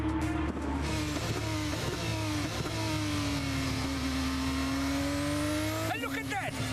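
A race car laps the Zandvoort circuit with a continuous engine drone that rises and falls in pitch, ending in a sharp rev sweep, all under commentary.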